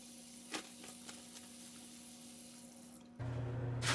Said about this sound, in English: the last step I'm going to do is I'm going to wash my hands